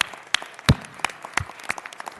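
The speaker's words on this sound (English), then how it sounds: "Let us give them a rousing round of applause" Scattered applause from an audience at a city council meeting, a handful of separate claps spread across the moment rather than a full ovation, moderately close and with no talk over it.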